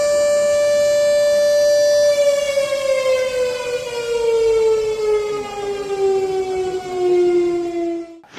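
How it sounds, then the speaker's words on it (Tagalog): A civil defense siren wails alone in one long, loud tone that slowly sinks in pitch before cutting off, warning residents during landslides in the Cordillera, Philippines. "Ang sirena ng pamalang bayan pinatunog para maabisuhan ang mga residente na maghanda"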